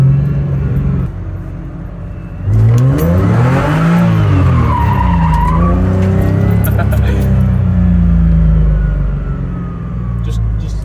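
A BMW on bald snow tires slides through a drift, the engine rising and falling in pitch as the tires break loose, loud and close inside the car after a quieter start.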